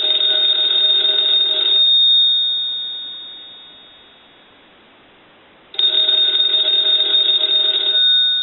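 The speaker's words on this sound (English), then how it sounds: "we're going to go ahead and ring the telephone" A loud, close payphone bell from a three-slot touch-tone payphone rings in two long bursts separated by a few seconds of silence, with a trailing hum between rings.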